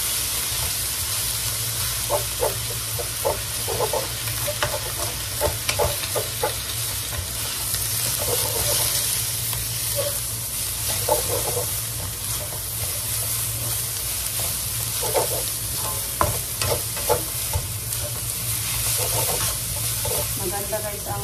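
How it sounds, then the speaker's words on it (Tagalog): Bean sprouts (tauge) fry in a pan with a steady, loud sizzle and hiss while a utensil stirs them, adding repeated scraping and clacking taps throughout, close up and without talking. "Kailangan haluin ang haluin."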